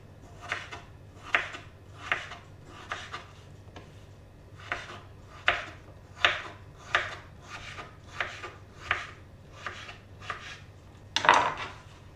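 A knife slices potato halves on a wooden board, around fourteen evenly spaced crunchy cuts, each with a short scrape, ending in a louder knock, close and quiet.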